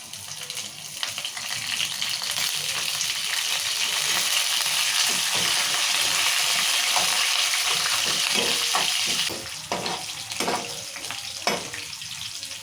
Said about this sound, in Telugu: పల్లీలు చెరిపప్పు వేయింది పల్లీలు చిటపాటు అంటున్నాయి